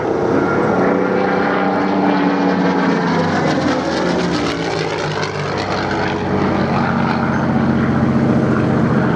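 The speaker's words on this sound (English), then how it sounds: "How, with such a noise, the engine doesn't blow itself apart on its own?" A propeller aircraft at the Duxford Flying Legends airshow roars loudly and close, its engine drone shifting in pitch as it passes, with no voices heard.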